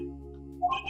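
A payphone rings in the Apollo Justice: Ace Attorney video game, a short bright electronic trill that cuts in late over steady sustained game tones, with no talking.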